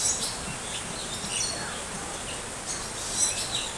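Small bird chirping outdoors, not a pigeon: faint, scattered high tweets over a soft background hiss, with a slightly louder chirp near the end.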